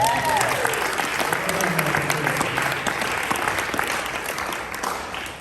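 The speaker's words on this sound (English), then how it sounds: "Give Jackie another round of applause." Round of applause from the audience at a Boca Chamber gala, a full, steady wash of clapping from a large crowd, loud and continuous, fading slightly toward the end.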